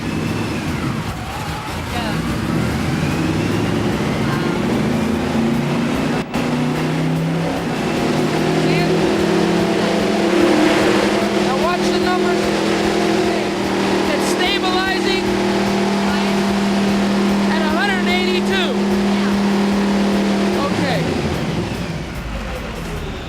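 Steady engine drone from a car held at a constant 50 on a chassis dynamometer, a loud sustained hum with low harmonics over about twenty seconds, with occasional voices talking over it.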